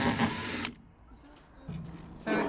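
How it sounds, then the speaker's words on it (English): A drill whines briefly while boring holes in a camper van box, a short high-pitched burst that cuts off, a quiet pause with small rustles, then another burst of drilling. "Right, I'll drill these."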